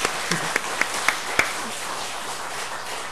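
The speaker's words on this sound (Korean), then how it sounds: "우리 박수 한번, 그죠?" Scattered clapping from a church congregation, a handful of distinct claps standing out over a soft wash of room noise.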